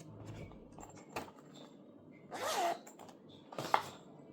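A zipper on the padded pouch of a Lewitt 240 Pro condenser microphone opens in a short, close rasp, followed by a second quick zip pull a moment later in a quiet room.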